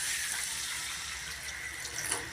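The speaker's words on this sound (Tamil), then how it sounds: "கொஞ்சமாக தண்ணி சேர்த்துக்கலாம்." Water pours steadily into a pan of cluster bean stir-fry with a soft, continuous splashing hiss, fairly quiet and alone.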